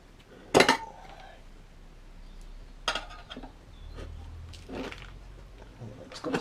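Metal tyre spoons clink and clank against a rear wheel rim while a tyre is levered onto it, with a few sharp, separate knocks spread over quiet workshop background.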